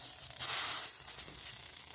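Neem leaves stirred and dry-roasted in a hot, dry iron wok give a soft, close sizzling crackle with a brief louder rustling burst, steady and quiet with no talk.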